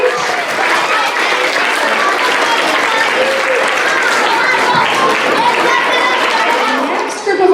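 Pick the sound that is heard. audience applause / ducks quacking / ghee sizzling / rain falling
audience applause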